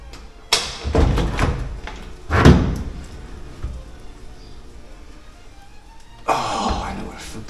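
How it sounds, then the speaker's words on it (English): Door being taken off a classic Mini in a workshop, with several heavy thumps and clunks of metal handling, a louder knock near the middle, then scraping, close by and without talk. "Next, the door comes off."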